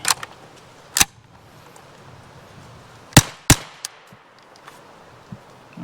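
Shots from an Armi Jager AP74 7.65mm (.32) rifle, an Italian AR-15 clone: five or six sharp, loud cracks at irregular intervals, including a close pair, with faint clicks between them and no talk.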